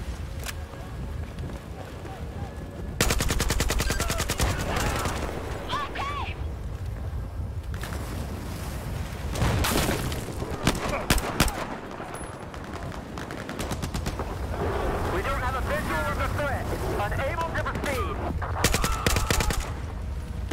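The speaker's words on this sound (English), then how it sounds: "the sound effects for the guns and everything is chef's kiss" Video game gunfire in Battlefield 4, with bursts of rapid automatic fire and single shots spread across the stretch, some loud and close, others more distant, over a constant rumble of ambience.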